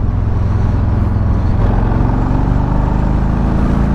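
A 2022 Harley-Davidson Street Bob pulls hard in fourth gear toward 50 mph, its engine a loud, steady low rumble with dense throb and wind roar throughout.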